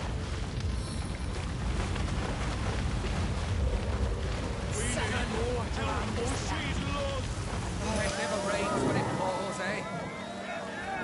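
Rain summoned from a rain scroll in the video game Divinity Original Sin hisses as a steady, broad downpour with gusty wind. A voice talks over the top of it throughout.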